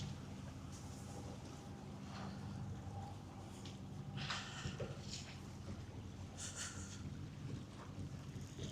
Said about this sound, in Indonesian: Ini ada kapal mungkin set trial, mungkin habis perbaikan.